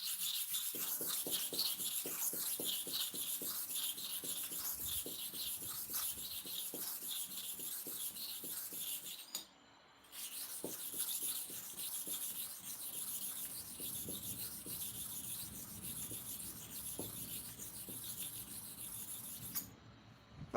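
One sharpening stone rubbed against another, lubricated with kerosene, makes repeated rhythmic gritty scraping strokes, close and fairly soft, with a brief pause near the middle and another near the end.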